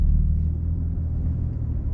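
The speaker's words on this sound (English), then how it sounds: "Take your foot off the brake, car turns back on" BMW M3 CS engine restarts after auto start-stop, heard from inside the cabin as a steady, deep, low rumble at idle, close and continuous without talk.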